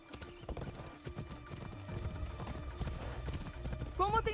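Horse hooves clip-clop in Assassin's Creed Odyssey, a steady galloping rhythm of dull thuds under a man's speech, ending with a sharp neigh near the close.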